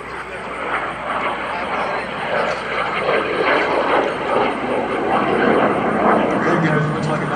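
L-39 Albatross jet flying an aerobatic barrel roll at an air show, a broad roaring engine drone that swells slightly as it passes, heard under an announcer's commentary.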